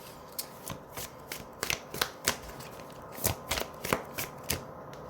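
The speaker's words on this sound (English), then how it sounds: "I will pull some astrology cards for you guys." A deck of astrology cards is shuffled close up, giving a run of crisp riffling flutters and soft taps at an irregular pace, with no talk.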